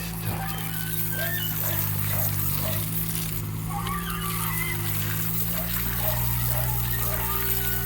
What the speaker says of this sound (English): He's turned the water on by himself.